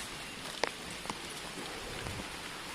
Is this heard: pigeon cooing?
no